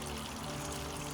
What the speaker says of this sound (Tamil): இப்போ பம்பை ஆன் பண்ணிவிட்டு எப்படி அருவி ஓடுதுன்னு டெஸ்ட் பண்ணி பார்க்கலாம்.